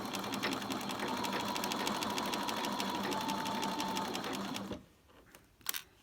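A sewing machine stitches the seam of a beret, running in a steady, close, rapid whir for several seconds before stopping, followed by a short clunk.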